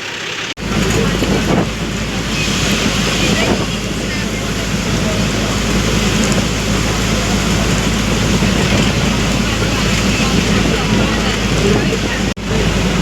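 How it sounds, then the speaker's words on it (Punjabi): Heavy rain falls at a bus stop in Punjab. A loud, constant hiss and patter carries on throughout, with what may be a passing vehicle and brief voices under it. "ਮੀਂਹ ਵੀ ਬਹੁਤ ਪੈ ਰਿਹਾ ਹੈਗਾ"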